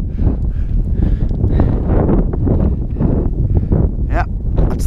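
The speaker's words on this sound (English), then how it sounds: "the wind." Gusty wind on Helm Crag, a Lake District fell, buffets the microphone during a June wild camp, producing a constant low rumbling roar with rustling flutters, close and loud throughout.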